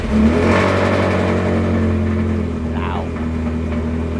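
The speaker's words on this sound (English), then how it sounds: "It sounds very cool. It's got a full tubey exhaust." A Ferrari 360 with a full tube exhaust idles and revs, a loud, deep engine note held close up, with a short vocal exclamation over it.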